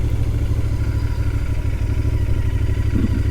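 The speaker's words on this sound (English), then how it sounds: "But this exhaust note will keep you entertained on all your rides for sure" A Royal Enfield GT650 Twin motorcycle's parallel-twin engine sends out a steady, deep, rapidly pulsing exhaust note at close range, loud and unbroken, with no voices.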